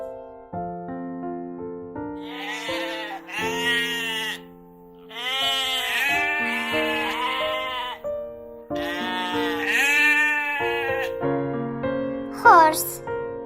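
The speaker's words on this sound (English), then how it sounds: "Sheep." Sheep bleating repeatedly, a series of loud, wavering baas close by over a steady musical backing, with short gaps between calls.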